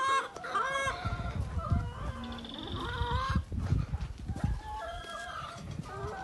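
Chickens and roosters at a Brazilian poultry farm raising dual-purpose birds including Embrapa, Leghorn and guinea fowl, with repeated loud crowing and busy clucking throughout, several birds calling over one another close by.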